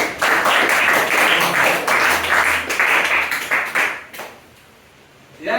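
A group claps together in a classroom, a dense burst of applause lasting about four seconds, then fading to quiet before a brief new rise at the end.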